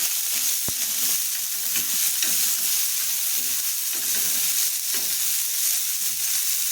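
Roasted dal sizzling in a pan with chopped green chili and plenty of coriander, a steady close hiss of frying with soft stirring scrapes and one sharp tap of the utensil near the start.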